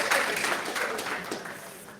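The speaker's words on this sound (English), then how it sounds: "that was just our bid for another round of applause" Audience applause in a conference talk hall, a short, dense burst of clapping that fades over two seconds, with a little talking mixed in.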